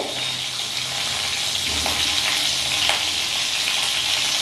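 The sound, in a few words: whole cumin seeds sizzling as they fry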